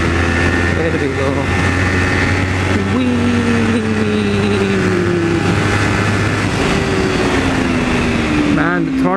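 A KTM Super Duke 990 LC8 motorcycle engine drones loudly and steadily while riding, its pitch rising and falling as the throttle opens, with a rider talking over it.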